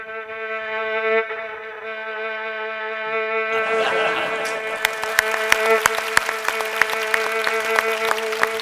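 A violin plays sustained, buzzing tones that imitate a housefly in flight, followed by scattered sharp clicks and taps over the steady drone.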